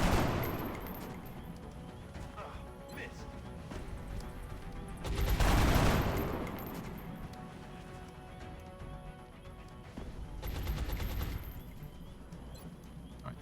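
Video game gunfire from XCOM Long War: repeated rattling automatic volleys that swell into two loud, dense bursts over a continuous background of game sound, with no talking.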